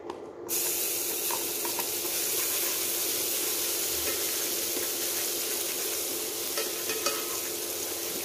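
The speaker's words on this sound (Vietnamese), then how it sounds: "bây giờ dầu đã nóng mình cho tỏi vào" Garlic goes into hot oil in a pot and sizzles at once, a loud, steady frying hiss that holds for several seconds, close, with faint stirring scrapes and no talk.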